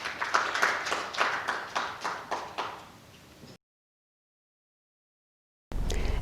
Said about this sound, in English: Please welcome her with the big round of applause.